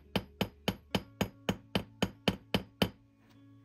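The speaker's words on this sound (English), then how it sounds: "Again, I'm letting the weight of the hammer speak." A hammer strikes a metal rivet on 16-gauge metal during jewelry making: ten crisp, evenly paced metallic taps close up, then a short quiet pause. No voices.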